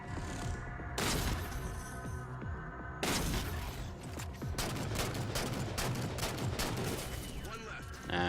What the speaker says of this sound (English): Light rifle, that might be a good choice.